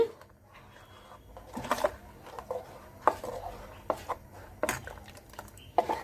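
Kalathappam batter being stirred and mixed in a bowl, giving a series of irregular clinks and scrapes of utensil against the vessel, sharp and close, spaced out over a quiet background.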